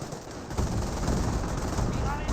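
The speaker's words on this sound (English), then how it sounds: "Grenadiers are firing away" Rifle fire from Grenadiers crackles in the Company of Heroes video game, a dense rattle of shots that starts after a brief lull and keeps going without a break, loud and close.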